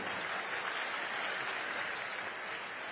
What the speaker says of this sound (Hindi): इस बार जोरदार तालियों की गुजारिश आप सभी से है